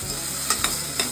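Potatoes frying in a pan with a low steady sizzle, broken by three quick scrapes of a spoon stirring and mixing them.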